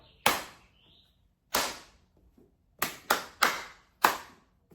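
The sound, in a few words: hand clapping a rhythm in 4/4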